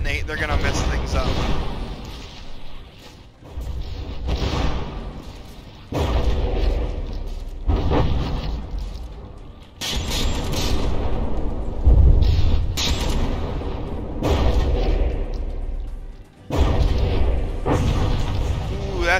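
Mortar shells detonate on battleships in the naval combat game From the Depths, with repeated deep booms and rumbling blasts rolling through almost constant game noise, mixed in with talking.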